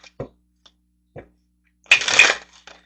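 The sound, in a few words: shuffling Romeo and Juliet oracle cards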